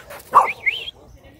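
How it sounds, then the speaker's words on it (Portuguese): A dog at a country farm gives a couple of sharp, close barks that rise into a short whining yelp, then falls quiet over faint background noise. "É brabo esse cachorro aqui,"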